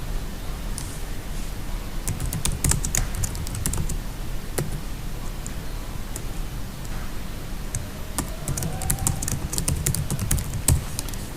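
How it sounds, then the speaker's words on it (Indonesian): Computer keyboard typing runs as irregular bursts of light, close clicks and taps, with small pauses between words and no talking. "ini kita ketikkan title-nya, subjeknya"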